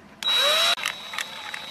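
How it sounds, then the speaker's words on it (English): A power drill with a 5/16 inch bit bores a hole through the center of a PVC violin body, a single short high-pitched whine lasting about half a second, followed by faint clicks and handling. "Take a 5/16 inch drill bit and drill a hole right in the center."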